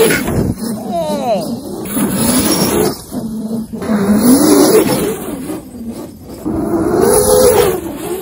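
A $2,000 RC car running on an 8S battery over grass and sand, its electric motor whining and rising in pitch in repeated bursts of acceleration with a whistling tone, close and loud.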